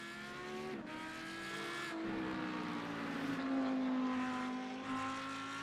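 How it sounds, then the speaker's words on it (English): Audi race car in a racing game at Spa-Francorchamps, engine note wavering and stuttering as the car loses traction, with steady loud revving and shifting pitch throughout. "That Audi is getting awfully squirrely, and you can hear it sputtering as it loses its traction."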